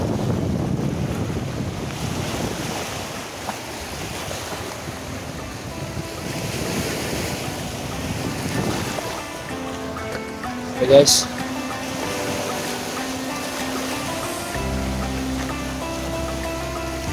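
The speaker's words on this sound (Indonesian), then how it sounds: "banyak sekali ini kapal-kapalnya ya" Brown sea water off a western coast crowded with tanker ships and boats, with steady surf and wind rumble throughout, someone talking over it and a brief louder splash or knock near the end.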